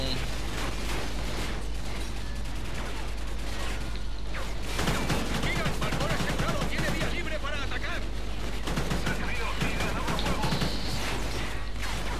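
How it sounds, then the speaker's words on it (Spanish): Dense machine gun fire and explosions from the Call of Duty Ghosts video game, loud and continuous throughout, mixed with crashes as a player talks over the gameplay. "hay aquí una ametralladora"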